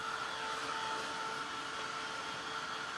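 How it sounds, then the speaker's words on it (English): A hair dryer blow-drying ink artwork, a steady even whirring hum running without a break from start to end at moderate volume, with no talk. "I'll blow dry it a little bit"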